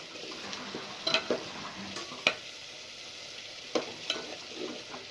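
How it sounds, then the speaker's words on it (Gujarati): Green chillies sizzle steadily in hot oil in a pan, with a few sharp spatula scrapes and clinks as they are stirred, close and without talk. "તેમાં મરચું વઘારી દઉં"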